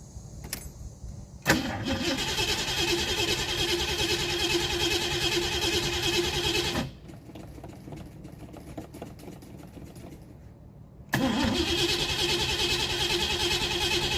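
A 1967 Mustang fastback engine with a carburetor cranks and catches, running roughly for several seconds, cutting out to quiet, then firing up again into a steady loud idle.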